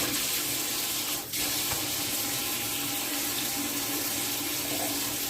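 Tap water runs steadily into a kitchen sink for washing dishes, a close, continuous rushing stream with one brief dip partway through.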